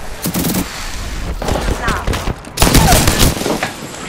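Rapid, overlapping volleys of automatic weapon fire in the video game Apex Legends crack in dense bursts with brief pauses, loud and close, with voices partly buried beneath.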